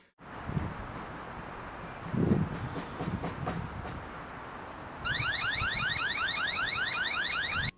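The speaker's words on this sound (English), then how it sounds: "If the person throws something at the camera or grabs it forcefully, then the alarm will sound." A Eufycam S330 solar security camera is handled with rustling and knocks, then its alarm starts up loud and close, a rapid repeating siren warble that keeps going to the end.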